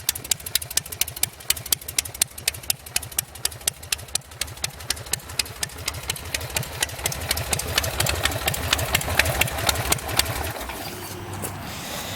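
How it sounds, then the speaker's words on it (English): A custom Buell Lightning bobber motorcycle idles low and close, its engine firing in a slow, even loping thump that quickens slightly toward the end. "idles real nice, idles real low"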